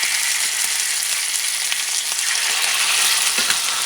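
Skinned chicken thighs sizzling loudly in a hot oiled pan for gumbo, a constant bright crackle with occasional pops and a few stirring clicks.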